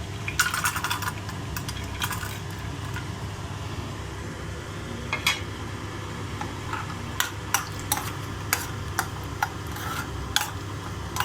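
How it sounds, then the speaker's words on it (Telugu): Cashews frying in oil in a pan for suji halwa, a steady low sizzle with a spoon stirring and clinking sharply against the pan at irregular intervals, close and fairly quiet. "కాజు ఫ్రై చేసుకుందామండి."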